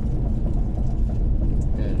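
A motorized tricycle passes along a flat rural road in Alcala, Cagayan, a steady close engine rumble filling the moment with broadband road noise and no clear pauses.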